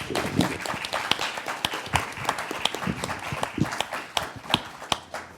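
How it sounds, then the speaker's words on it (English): Sparse applause from a seminar audience on bioethics and international order, with distinct individual claps scattered unevenly rather than a dense ovation, moderately close and fairly quiet, with no talking over it. "Let's give a round of applause."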